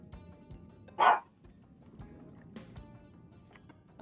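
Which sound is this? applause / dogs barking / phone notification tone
dogs barking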